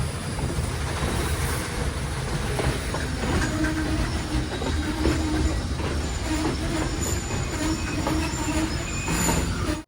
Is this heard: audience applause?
no